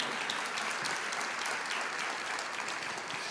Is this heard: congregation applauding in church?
yes